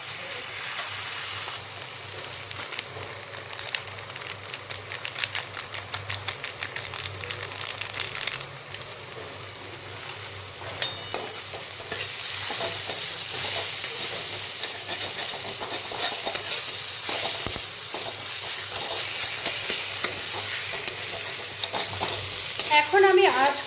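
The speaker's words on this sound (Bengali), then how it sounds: "এখন আমি আঁচ কমিয়ে মশলাগুলোকে একটু কষতে দিই।" Spices and dry chili powder fry in a pan while being stirred. A loud constant sizzle and hiss runs through, broken by frequent scraping strokes of the spatula, close by and with no voices.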